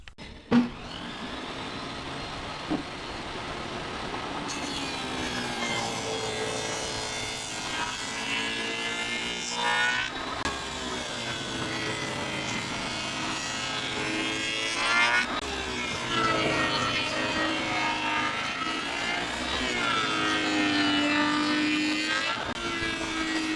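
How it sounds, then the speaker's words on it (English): A table saw cuts a channel in a cabinet panel to recess a 3/4 inch back panel, its motor whine dipping and rising in long sweeping waves as the wood feeds through, steady and moderately loud. "let's run this through the table saw"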